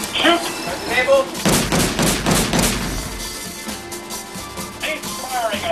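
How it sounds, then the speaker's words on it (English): A large naval gun aboard the Canadian warship HMCS Ottawa fires during an air defense exercise, giving several heavy, booming blasts in close succession with voices and radio chatter around them. "He's firing a big gun bang."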